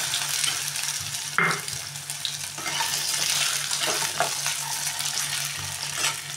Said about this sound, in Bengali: কাটে কুচিটা আমি আস্তে আস্তে ভাজবো, তাহলে সেদ্ধ হবে ভালো